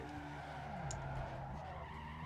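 Rear tires of a Mazda RX-7 spin and skid in Need for Speed Underground 2, a steady, fairly quiet tire squeal over a continuous engine drone, with no talking.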